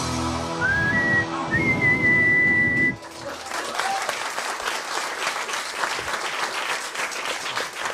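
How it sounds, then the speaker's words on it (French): A referee's whistle blows the end of extra time in a final: a few shrill blasts, then a long held one, followed by a burst of loud, sustained crowd applause. "l'arbitre qui siffle la fin de ces prolongations"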